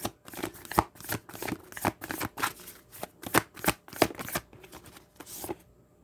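A deck of tarot cards is shuffled by hand in quick rhythmic riffles, close and crisp, a run of dense bursts repeating for several seconds.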